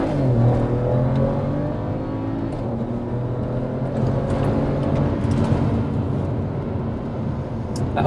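BMW E92 335i with stock turbo, JB4 tune, port injection and E85 flash launching hard with wheel spin, a steady loud engine drone with rising tones held for several seconds, no speech.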